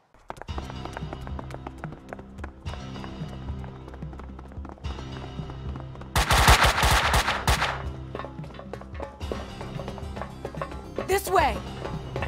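Gunfire in the video game Max Payne 2, bursts of rapid shots cutting through a steady musical score around the middle of the clip, loud and close, with a few sharper cracks near the end and voices talking.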